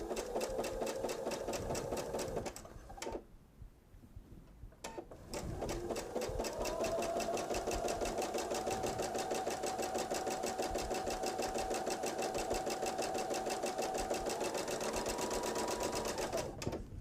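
A sewing machine stitching fabric for a seasonal bench pillow, a close, fast steady mechanical whir that stops briefly and then resumes, running continuously to the end without speech.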